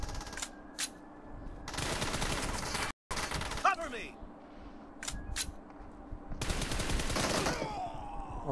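Rapid bursts of automatic gunfire crackle through a mobile shooter game's team deathmatch, with sharp repeated shots and short pauses between volleys over a steady game background.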